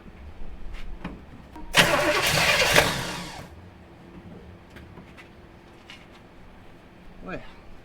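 A 1968 Chevrolet Impala that sat unused for five years, fed fresh gas, cranks in one loud, harsh burst of under two seconds, then drops back to quiet background noise with a few faint knocks and brief speech.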